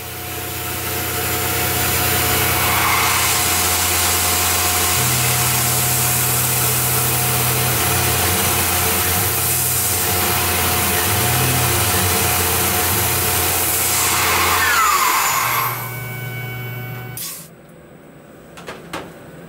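Tormach CNC mill running a toolpath cycle, a steady machine hum with stepping tonal shifts as the cutter moves, loud and continuous for about fifteen seconds before winding down with a few clunks.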